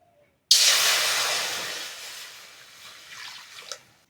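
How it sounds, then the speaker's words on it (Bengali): Water poured into a hot wok on a stove to boil soybeans hits with a sudden loud hiss of sizzle and steam, then fades steadily over a few seconds. "উনুন ধরিয়ে কড়া বসিয়ে দিয়েছি কড়ার মধ্যে জল দিয়ে সয়াবিনটা সিদ্ধ করে নেব"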